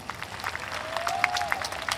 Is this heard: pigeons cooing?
no